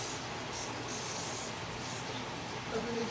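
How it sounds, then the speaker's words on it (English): Sanitizer is sprayed onto a kitchen surface, giving a close, continuous hissing spray with a few short pulses over a quiet background. "I'm going to spray her down."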